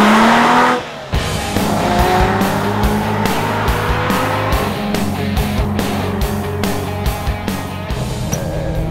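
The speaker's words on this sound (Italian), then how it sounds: "non ho mai trovato un'auto sportiva che sia paragonabile alle caratteristiche della Miura" A Lamborghini Miura sports car driving, its engine roaring loud and close with rising and falling revs and tyre noise, running continuously after a brief pause near the start.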